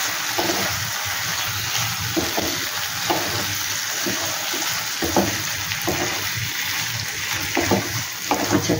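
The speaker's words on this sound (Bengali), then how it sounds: "পনিরগুলো দিয়ে মশলার সাথে ভালো করে মাখিয়ে নেবো পনিরগুলোকে।" Paneer cubes are mixed with spices in a hot pan, giving a continuous loud sizzle broken by rhythmic scraping stir strokes about once a second, close up with no talking.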